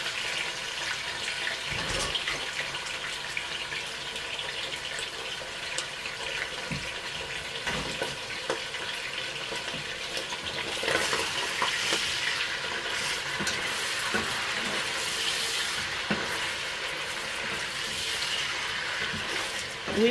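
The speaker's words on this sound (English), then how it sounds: "we'll be starting to fry beef first, or meat" Beef sizzles and crackles in hot canola oil, a steady hiss with scattered pops and faint stirring clatter running continuously at close range.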